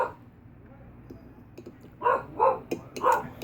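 A pet dog indoors barks a few short sharp times in quick succession at noises outside, preceded by faint clicking and rustling.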